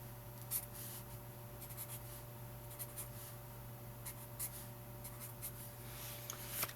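A pen or pencil scratches on paper in short intermittent strokes, faint and close, over a steady electrical hum.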